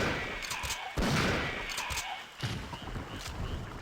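Gunfire from a Resident Evil 3 Nemesis playthrough, with several loud shots in bursts and thuds between them, echoing over a noisy game backdrop.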